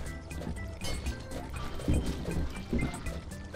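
Water splashing and sloshing as it is mopped up in the video game Viscera Cleanup Detail, a busy, steady wet wash with a few heavier surges, close and fairly loud.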